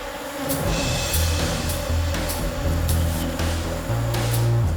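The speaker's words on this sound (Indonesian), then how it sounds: "Asap tetap harus dijaga untuk menghalau lebah-lebah yang masih berkeliaran di sekitar kami." A swarm of wild bees buzzes steadily around large dripping honey nests, with smoke kept going nearby. The low droning hum is loud and continuous, with no talk.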